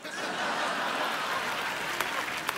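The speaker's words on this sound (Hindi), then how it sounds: "तो ठोको ताली" A studio audience on the Kapil Sharma comedy show claps in a steady, full burst of many hands, with faint chuckles mixed in and a couple of sharper claps near the end.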